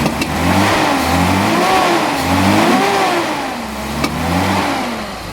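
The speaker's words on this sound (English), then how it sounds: "Couple of backfires." A Datsun 280ZX engine revving in repeated rising and falling pulls with a sharp pop near the end, loud and close with no talking.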